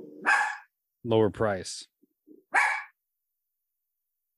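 A dog barks in a few short sharp bursts indoors, close to the microphone, between brief spoken words.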